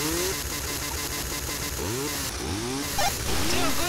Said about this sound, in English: What the hell, I'll buy a chainsaw for you guys.